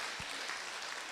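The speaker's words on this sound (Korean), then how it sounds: "우리 찬양 가수 김석균 목사님 다시 한번 위해서 큰 박수로 환영해 주시면 감사하겠습니다." Church congregation at a revival meeting clapping to welcome a gospel singer: a brief, even wash of applause filling the hall, with no speech.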